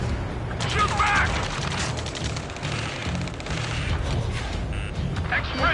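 A video game firefight fills the clip with rapid bursts of automatic gunfire and sharp shots layered over mechanical clatter, loud and continuous, while voices shout beneath the shooting.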